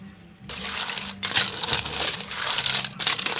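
Boiled water poured from a kettle into a cooking pot of ginataang suso, starting after a short quiet moment, then uneven splashing gushes of liquid with brief breaks, close and fairly loud.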